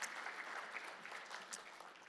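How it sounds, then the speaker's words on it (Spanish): A church congregation applauding, a dense patter of many hands clapping together at moderate distance, steady and somewhat faint, over about two seconds. "De esas palmas fuertes al Señor y nos sentamos"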